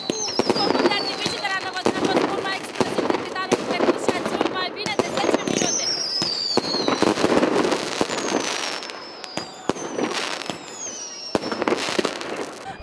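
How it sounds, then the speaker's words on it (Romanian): Fireworks burst repeatedly in a New Year's midnight display over the town centre of Năvodari, with sharp cracks and whistling rockets at an irregular rhythm and voices of the crowd mixed in. "La miezul nopții, un impresionant foc de artificii anunța primele secunde din noul an."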